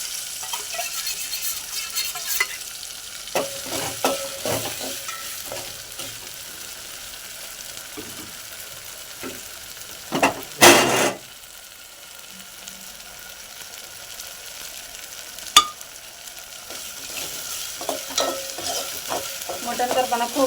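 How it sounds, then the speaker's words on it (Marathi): Grated coconut roasts in hot oil for a mutton rassa, giving a steady close sizzle with intermittent scraping stirs and a couple of louder clatters, no speech. "मटण करताना खोबरं असं लाल लाल लाल भाजायचं तेलामध्ये"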